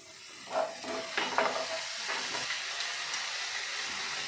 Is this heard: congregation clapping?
no